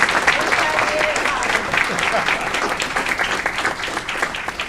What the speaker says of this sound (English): Another round of applause for the ITO.